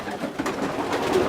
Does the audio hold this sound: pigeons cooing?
yes